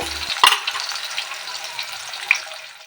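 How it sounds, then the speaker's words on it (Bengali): Potato pieces seasoned with a little salt and turmeric sizzle steadily in hot oil in a home kitchen, a continuous close frying hiss with a sharp clatter near the start and another brief knock later. "আলুটার মধ্যে আমি একটু নুন আর হলুদ সামান্য পরিমাণে দিয়ে ভেজে নেব"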